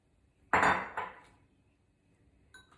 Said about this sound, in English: Put in our chickpeas.